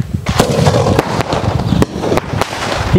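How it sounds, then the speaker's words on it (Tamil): Bundled sky shot firecrackers, three crackers tied together, go off in a close, loud volley of sharp bangs at uneven intervals, with crackling bursts ringing out over a steady outdoor rumble. "ஸ்கை ஷாட்டுக்குள்ளே த்ரீ ஷாட்டு மூணு கட்டு அதுவும் என்ன ஆகுதுன்னு பார்ப்போம்"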